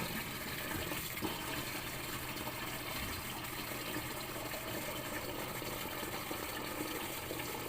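Tap water pours steadily into a collapsible accordion water jug, a continuous close gushing fill with no pauses, fairly loud and unbroken throughout.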